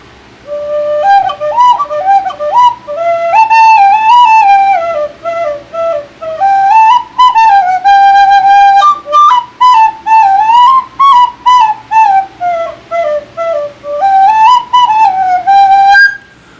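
A red Clark Sweet Tone tin whistle, a very low-breath indoor instrument, is played softly, carrying a clear, pure melody with a run of short tongued notes near the end, heard alone and close.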